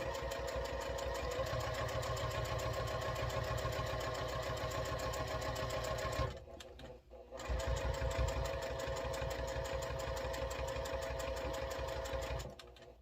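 A sewing machine stitches around the angled corner of a fabric case in a loud, fast, continuous run, stops briefly partway through, then resumes at the same steady rhythm.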